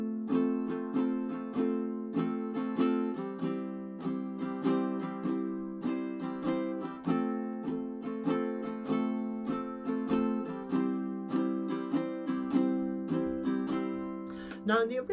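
Ukulele strumming the chords of a song, steady bright strums in a repeating chord pattern, close and clear with no talk.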